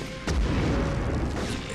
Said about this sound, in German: Viele Explosionen, verdammt viele Explosionen